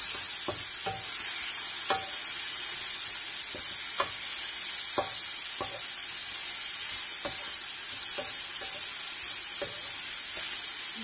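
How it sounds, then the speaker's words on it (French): Cassava sticks stirred in a pan with tomato, cucumber, carrot and fresh ginger: a steady low sizzle runs throughout, broken by a dozen or so distinct scraping, clacking stir strokes at an irregular pace, close and fairly loud. "concombre, carotte et gingembre frais. Voilà. Je remue bien."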